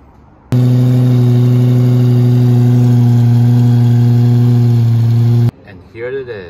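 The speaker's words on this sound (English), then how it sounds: "here it is, the famous Lamborghini V10" A naturally aspirated pre-LP Lamborghini Gallardo V10 engine runs at a steady, deep droning idle, loud and close, cutting off abruptly before a voice starts speaking.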